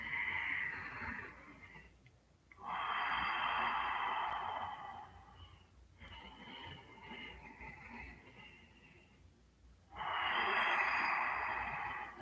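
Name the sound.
breathing during a yoga pose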